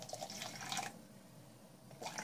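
Hot water runs from a tap into a measuring cup while making a quick dough for fried cabbage pirozhki, a soft close splash in two short bursts with a quiet pause between.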